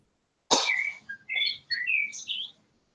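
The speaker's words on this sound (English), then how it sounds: "although there's birds chirping, which might ruin this" Birds chirp outdoors: a sharp burst of noise, then a string of short, bright tweets and whistled calls over about two seconds, fairly close and clear with no talking.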